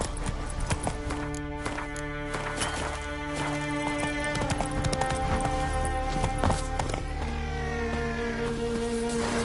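Horse hooves clip-clop steadily in The Witcher 3, the horse Roach trotting near and clear over a game music bed, with a brief whinny-like cue and no talk.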